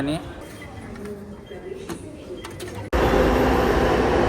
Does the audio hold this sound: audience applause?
no